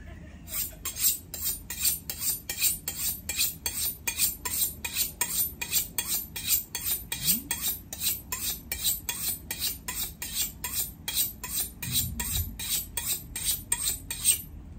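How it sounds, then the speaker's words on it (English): A kitchen knife is drawn along a round honing steel in fast, regular metallic swipes, each one a bright scrape repeating dozens of times with an even rhythm, close up and alone. "This is a sharpener. And this is a straightener or the honing stick."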